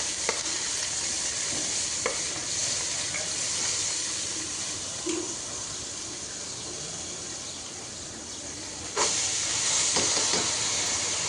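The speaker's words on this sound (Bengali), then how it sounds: "পেঁয়াজ দিয়ে একটু নেড়ে চেড়ে এরপর আলুগুলো দিয়ে দিলাম" Potatoes and onions frying in a rice cooker, a continuous close hiss and sizzle with occasional scrapes and knocks of stirring, and a louder burst of sizzle near the end.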